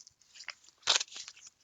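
A Blu-ray steelbook being unwrapped, brief soft crinkles and a sharper plastic crunch in the middle, quiet and close, with no voice.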